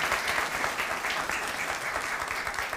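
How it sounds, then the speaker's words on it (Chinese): A church congregation at a Christmas thanksgiving worship service claps in welcome, a full and even wash of applause from many hands that holds steady for under three seconds. "咱来安尼鼓掌"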